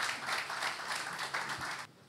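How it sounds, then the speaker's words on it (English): An audience at a political talk event gives a short round of applause, brisk clapping from many hands that stops abruptly just before the two-second mark. "Please, can we give him a round of applause?"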